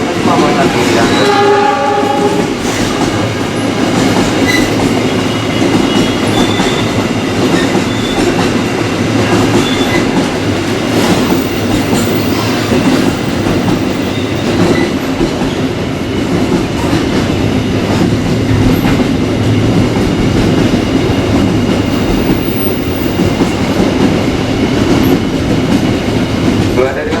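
A CC203 diesel locomotive hauling a train past Jatinegara station in Indonesia, with a loud horn blast at the start, then a sustained roar of engine and rolling wagons with rhythmic clatter, close and continuous.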